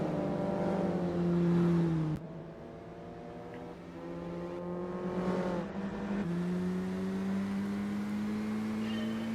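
Race cars pull away together at the start of a Gran Turismo 4 race on a long straight, engines droning and climbing through the gears in several rising pitch sweeps, loud and continuous with no talk.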